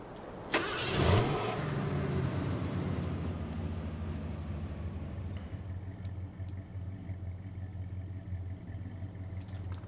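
A Ford F-150 pickup truck in the MudRunner off-road driving game cranks and fires up, then settles into a steady, rumbling idle that continues to the end without any talk.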